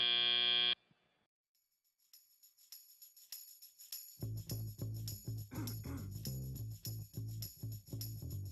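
A loud, harsh buzzer sounds briefly at the end of an FRC robotics competition match in an arena, then cuts off. After a short near-silence, pulsing music with a steady beat takes over.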